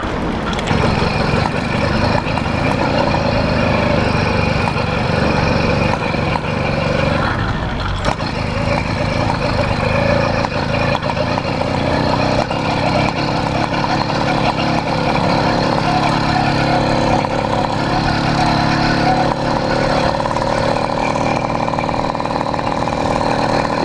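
A Yanmar YD100 engine in a failing condition runs steadily at a rough, barely sustained idle, a close, continuous mid-pitched mechanical chug that holds for the whole stretch with no talk.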